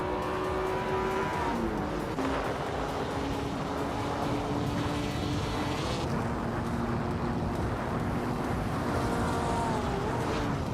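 Racing cars in a video game, including a 1956 Jaguar D-type, roar continuously with rising and falling engine whines as they shift gears, several engines layered close together under steady rushing noise.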